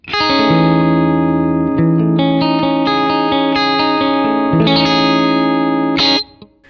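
An electric guitar strums a chord with notes raked upward, ringing loud and sustained with effects, then a second chord before fading.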